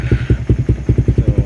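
A Suzuki Raider 150 Fi motorcycle engine running close and loud, a fast even low-pitched chugging pulse that holds steady throughout.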